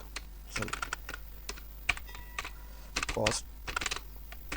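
Computer keyboard typing while writing code for a farming management system project, with scattered clusters of quick key taps and a few louder presses, near and fairly quiet, amid faint speech-like sounds.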